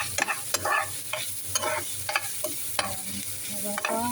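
Beans with tomato and coriander fry in a pan and are stirred with a utensil, giving steady close sizzling broken by repeated scraping strokes and clinks, no talk.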